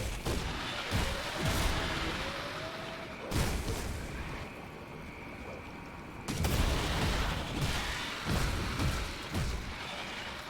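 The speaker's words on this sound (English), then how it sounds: "That's a hell of an explosion." Several loud explosive booms go off in the video game Grim Dawn, sharp broadband blasts with rumbling tails, recurring every second or two amid dense combat noise, close and heavy.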